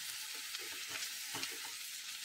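Grated ginger and vegetables stirred together in a frying pan, a steady sizzle with soft scraping strokes of a spoon at an even pace, close and fairly quiet, with no talking.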